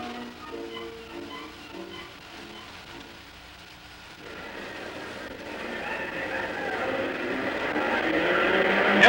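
Race car engines at a Le Mans-style start of the 1956 Sebring endurance race: a quieter stretch of distant engine noise, then a rising roar as many cars fire up and pull away, growing louder toward the end.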